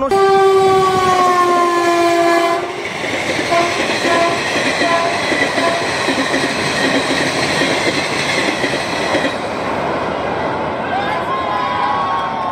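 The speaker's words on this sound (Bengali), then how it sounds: "এই প্রথম দেখতে পাচ্ছেন আহিরন রেল ব্রিজের ওপর থেকে দ্রুত গতিতে ছুটে গেল সিআরএস স্পেশাল।" A CRS special train races at speed across the new Ahiron rail bridge, its horn blaring at first, then a loud, steady roar of wheels and carriages rushing past close by.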